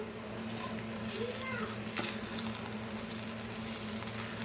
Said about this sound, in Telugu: ఇదిగోండి, ఇదంతా ఫ్రై అవ్వాలన్నమాట